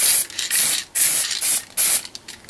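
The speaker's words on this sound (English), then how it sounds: "basically we can just give them a spray like that, just lightly." Aerosol spray applied lightly over pinball machine decals, several short loud hissing bursts in an irregular rhythm separated by brief pauses, close to the can.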